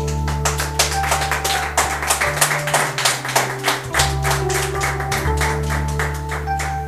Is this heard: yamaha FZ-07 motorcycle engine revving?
no